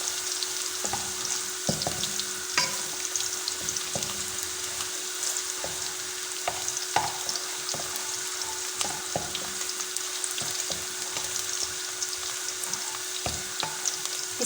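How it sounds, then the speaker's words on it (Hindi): Garlic for sarson ka saag browns in a pan, giving a steady, soft sizzle throughout. Faint scattered clicks and stirring taps sound over the crackle. "लहसुन को हम हल्का ब्राउन करेंगे।"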